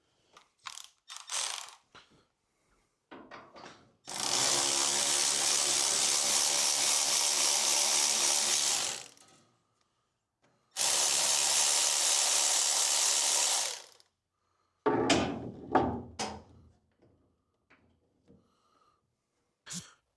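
A rusted speedometer drive is worked off a 1928 roadster with two long bursts of loud, rapid ratcheting, surrounded by scattered metallic clanks and knocks.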